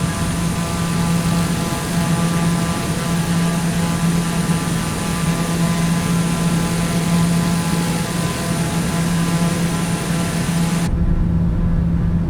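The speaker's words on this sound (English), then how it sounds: "Right, we're airborne. Positive rate then. Gear coming up." Engine drone of an aircraft climbing after takeoff in Microsoft Flight Simulator, a loud steady hum with constant tonal whine that cuts off abruptly near the end.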